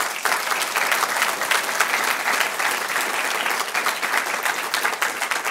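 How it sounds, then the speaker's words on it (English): An audience at an awards evening for small business winners gives loud, sustained applause, a dense wash of clapping from a large crowd that holds steady throughout. "a huge round of applause to all the winners this evening"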